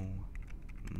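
Computer keyboard typing during a Minecraft PC session, a short run of light clicking keystrokes over a steady low background hum, fairly faint and close.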